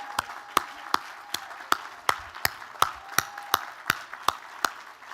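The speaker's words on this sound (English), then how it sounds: "One more round of applause for these outstanding representatives of AIC" Sparse, evenly spaced single claps ring out in a large room at an athletics Hall of Fame induction ceremony, each sharp slap echoing briefly, about two per second, with no talking.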